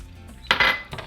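Utensil scraping and clinking in a pan while melted butter, lemon zest and spices are mixed for garlic shrimp, a short cluster of close metallic scrapes mid-clip with a lighter tap near the end.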